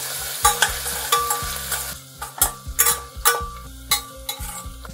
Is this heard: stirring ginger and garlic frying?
yes